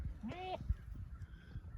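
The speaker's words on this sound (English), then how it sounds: "Come on, goats." A single short goat bleat rises near the start, followed by faint rustling and quiet background noise.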